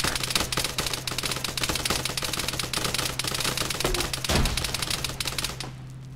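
Rapid gunfire comes from a tower in the video game Arma 3. A fast, steady rattle of shots continues for several seconds, with a thud near the end, then fades.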